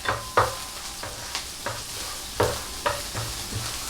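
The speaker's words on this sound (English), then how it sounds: "so you just stir fry the onion until it's gonna turn white" Onions stir-fry in olive oil for a cauliflower macaroni and cheese dish. A moderate sizzle is broken by repeated sharp utensil knocks and scrapes in an uneven rhythm, with no voices.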